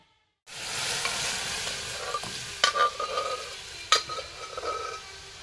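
Dal cooking in a pot in a village kitchen sizzles steadily at close range, with a few sharp spoon scrapes and knocks as it is stirred.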